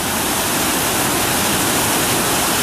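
Water rushing through a lock and dam on the Monongahela River at Morgantown, West Virginia, a loud, dense, constant roar with no break and no voices.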